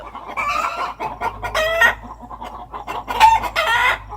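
Several chickens squawk and cluck in agitated bursts at a hawk overhead, with sharp high alarm calls rising twice, close by and with no talking.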